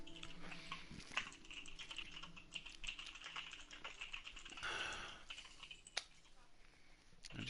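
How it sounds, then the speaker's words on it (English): Rapid, continuous clatter of keys on a computer keyboard, close and busy, with a few sharper taps and a brief louder burst partway through. "I just hear you typing like crazy over there"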